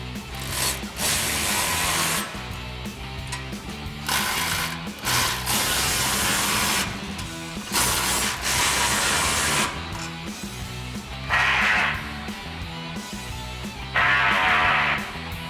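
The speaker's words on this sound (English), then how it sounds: "we're going to grab our 14mm socket on our ratchet and tighten those down" Hand ratchet with a 14mm socket tightening exhaust hanger clamps on a Chevrolet Silverado 2500 gas truck, a series of close rhythmic clicking bursts with brief pauses between them.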